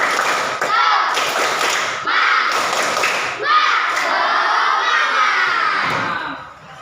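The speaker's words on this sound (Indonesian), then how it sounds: "Tepuk semangat." Schoolchildren in a classroom doing a rhythmic spirit clap, patterned bursts of claps with loud shouting and cheering voices, close and lively.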